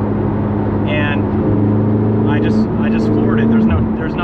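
A car engine drones loud and steady, climbing and dropping in pitch as it revs through an upshift, heard from inside over the whole stretch.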